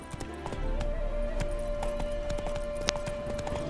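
Horse hooves clip-clop in a steady galloping rhythm while a mount is ridden in The Witcher 3: Hearts of Stone, close and continuous, with a brief whinny and a few faint game sounds around it.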